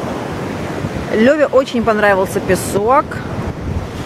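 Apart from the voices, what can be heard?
stormy sea waves crashing on beach with wind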